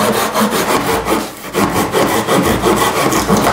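A hand saw cuts through wood in a shed in steady back-and-forth strokes, a loud rasping rhythm with a brief pause midway.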